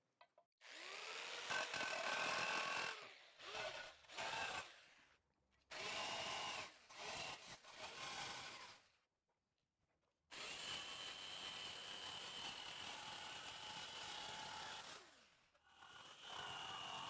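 A power tool cutting aluminum for a horse hospital plate, loud grinding and whining bursts of a few seconds each, broken by short silent pauses.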